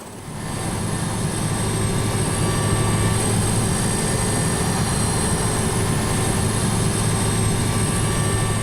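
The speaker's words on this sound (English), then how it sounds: "the Puma lifts off again, fully laden with passengers heading north" Puma helicopter fully laden with passengers lifting off and flying, a steady loud engine roar and rotor drone rising quickly at the start and then holding constant.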